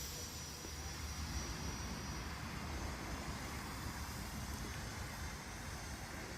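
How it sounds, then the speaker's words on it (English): A steady, continuous whir from the electric ducted fan motor of an E-flite Aeroscout RC plane converted to EDF, holding an even drone throughout with no voices. "Motor still running."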